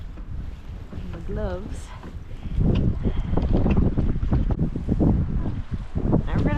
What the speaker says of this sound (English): the wind is definitely up